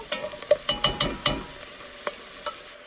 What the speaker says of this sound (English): Stirring frequently.